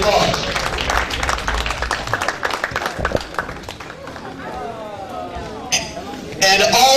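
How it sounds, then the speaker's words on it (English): Audience applause fills a hall at the Shekinah 2011 awards ceremony, with dense, loud clapping and crowd noise that thins out and then swells again near the end, voices mixed in. "Give her a round of applause."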